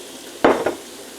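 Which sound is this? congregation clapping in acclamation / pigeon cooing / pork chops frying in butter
pork chops frying in butter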